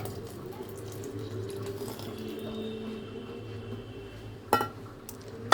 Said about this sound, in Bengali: ড্রাগন আমার পেস্ট হয়ে গেল, এবারে দিচ্ছি মিল্ক